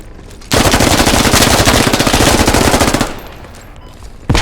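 Sustained automatic gunfire in the military shooter Squad, a loud, rapid burst of rounds lasting a few seconds, dropping away before a final sharp shot at the end.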